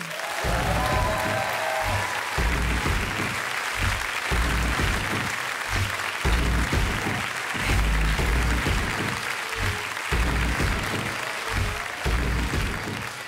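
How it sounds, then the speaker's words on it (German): A comedy awards show crowd applauds loudly and continuously, steady clapping that fills the whole stretch without pause. "Grossen Applaus"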